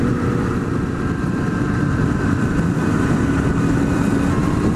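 A Kawasaki ZX-10R sport motorcycle runs at a steady, loud engine drone on an open road, mixed with heavy wind roar and no clear rise in revs.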